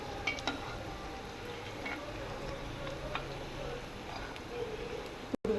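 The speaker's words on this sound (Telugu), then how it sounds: "ఇలా బ్రౌన్ కలర్ వచ్చే వరకు వీటిని డీప్ ఫ్రై చేసుకోవాలి" Potato fingers deep frying in hot oil, a steady close bubbling sizzle with faint ticks and light stirring clinks that continues throughout, a voice speaking over it.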